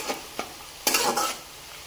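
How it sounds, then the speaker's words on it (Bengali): Onions frying in a pan for mutton biryani, stirred by spoon in a few scraping strokes over a soft background sizzle, close and fairly quiet. "এটা ভাজার সময় আপনাদের কন্টিনিউ নাড়তে হবে।"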